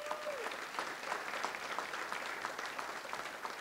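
Steady applause from a crowd at a live Las Vegas show in 2012, a dense continuous patter of many hands filling the room at even loudness from start to finish, with no voices standing out.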